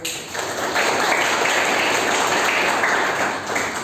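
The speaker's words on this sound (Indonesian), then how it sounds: "Beri aplaus untuk teman-teman kalian." A classroom of students applauds their classmates during a geography teaching session, a steady wash of clapping filling the room throughout at fairly even loudness.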